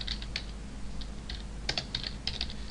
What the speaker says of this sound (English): Let me make sure I type this right.